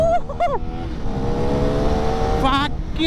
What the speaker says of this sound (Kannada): ನಾನು ಥ್ರಾಟಲ್ ರೆಸ್ಪಾನ್ಸ್ ಕೊಟ್ಟೆ ನೋಡಿ.